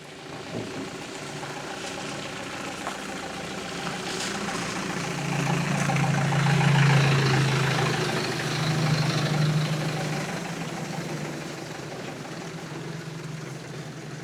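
A small Scout 404C tractor engine idles with a steady low rumble, swelling slightly louder midway and then settling, with no voices over it.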